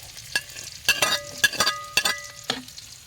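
Chopped onion dropped into hot oil for chicken adobo sizzles and crackles close up, with several sharp stirring scrapes and clatters breaking through the steady frying hiss.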